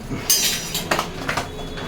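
Raw flattened rice (aval) is stirred in a pan, giving a short run of dry scraping and light clinking strokes, close and moderately loud, with no talk.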